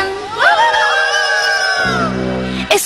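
Several voices let out long, wavering whoops and yells like warriors' battle cries, rising together into a sustained chorus, then a lower rumble joins near the end.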